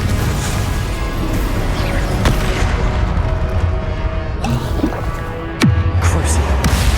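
Confringo fire spell blasts in Hogwarts Legacy, a dense rumbling boom and throbbing roar with sharp cracks near 2.3 and 5.6 seconds over continuous loud game noise.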